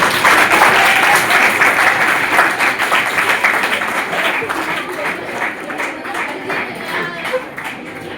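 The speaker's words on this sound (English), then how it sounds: "First of all, clap for it." Audience applause at a school inter-house science quiz competition, loud sustained clapping from a crowd that gradually fades over several seconds.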